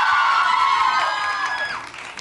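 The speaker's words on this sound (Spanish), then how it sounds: "¡Aplausos!" Studio audience on a Mexican TV variety show cheering and applauding for the duo Ha*Ash, a loud, continuous roar of whoops and shouts over clapping that eases slightly toward the end.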